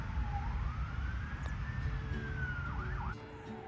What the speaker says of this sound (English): because there's traffic and sirens